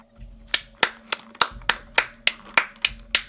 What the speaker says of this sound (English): I don't know if you could hear it, but I was clapping.